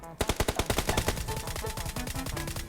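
Rapid automatic gunfire from PUBG Mobile, a fast string of sharp bursts that starts loud and carries on as a steady rattle, with faint voices in the background.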